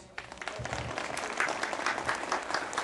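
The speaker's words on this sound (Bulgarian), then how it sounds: "Аплодисменти и за останалата част от ръководството на Мелиор" Spectators at the first training session of the Miner football club applaud the club's management, a dense, fairly even round of clapping that holds steady throughout.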